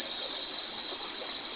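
A mountain stream flows beside a camp in the Caraballo Mountains, giving a steady, even rushing wash with no voices.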